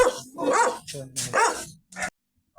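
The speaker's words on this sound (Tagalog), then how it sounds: "Ang dami mong aso." Several large dogs barking in bursts at a junk-collecting stop, loud and close, with short pauses between the barks.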